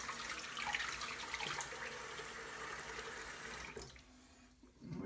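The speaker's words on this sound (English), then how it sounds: "We're just going to add a little water there." Water runs steadily from a tap during soap making, a broad rushing hiss that continues for several seconds before cutting off, leaving quiet room noise.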